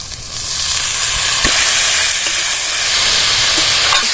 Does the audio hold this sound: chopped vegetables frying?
yes